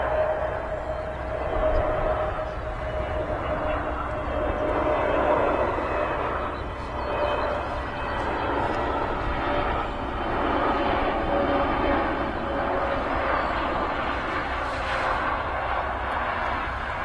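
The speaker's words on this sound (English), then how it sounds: "It's an EasyJet A320 Neo. Just touching down." easyJet Airbus A320neo touching down at Manchester Airport, a steady distant jet roar with rumbling swells, heard from a distance.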